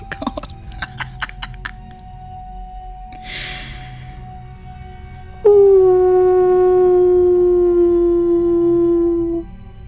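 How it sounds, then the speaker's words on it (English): A lone creature's howl rises out of quiet and then holds as a long, steady, loud wail, preceded by faint clicks and a soft breathy noise, used as a sound effect in a tabletop role-playing game. "Another howl."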